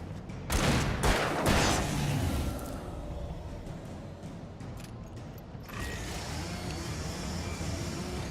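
Gunfire in the Alan Wake video game: a burst of loud, close shots at the start, followed by a rumbling, mechanical background with a few duller thuds and a renewed wash of noise near the end.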